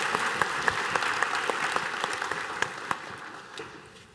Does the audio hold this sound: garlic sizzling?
no